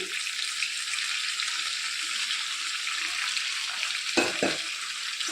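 Stuffed bitter gourds fry in oil inside a pressure cooker, giving a steady, even sizzle throughout with a brief clatter near the end, with no talking.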